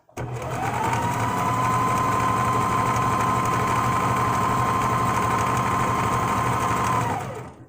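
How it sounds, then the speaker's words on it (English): A Singer Heavy Duty sewing machine runs in one continuous fast burst of about seven seconds, a steady close motor whir with a rapid needle rattle and no talking. "sometimes I sew a little quick, especially, well, and I maintain my own machine rather well."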